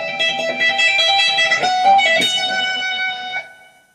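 An electric guitar plays a lick, a clean melodic run of hammered and sliding notes for about three and a half seconds before ringing out.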